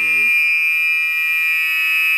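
An alarm sounds a loud, steady, piercing electronic tone that holds continuously after a brief low burst at the start.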